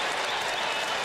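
College basketball arena crowd at a Marquette game roars into a dense, sustained ovation of applause for star Marcus Howard, loud and continuous throughout.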